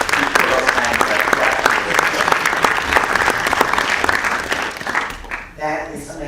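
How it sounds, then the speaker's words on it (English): An audience at a leadership roundtable with HBCU chancellors and presidents bursts into loud, dense applause that fills most of the stretch, then tapers off near the end as a voice begins speaking. "I think that in and of itself deserves a round of applause"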